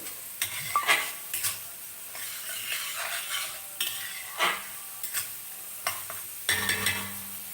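Tomato and broad bean curry fries in a pan as it is stirred, with repeated scraping strokes at an uneven rhythm over a soft background sizzle, close and without talk.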